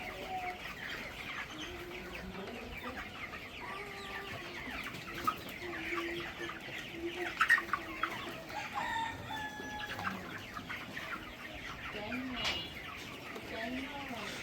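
Chickens on a raised slatted-floor poultry farm cluck steadily, with scattered louder squawks and a distant crow over a quiet barn background.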